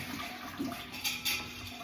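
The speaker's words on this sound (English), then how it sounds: "I'm going to rinse the black beans out." Water runs steadily over black beans in a colander, a continuous splashing hiss with a few brief louder surges, close and alone.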